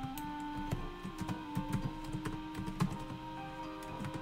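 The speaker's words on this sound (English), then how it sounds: "There we go, typing." Keyboard typing in a video game, a quick run of light clicky keystrokes in an irregular rhythm over a steady hum of background music.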